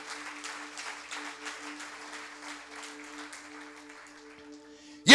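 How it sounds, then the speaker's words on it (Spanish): A church congregation applauds, the clapping fading gradually under a sustained tone from a keyboard or organ before an abrupt loud knock at the very end. "De un aplauso al Rey de Gloria en esta hora."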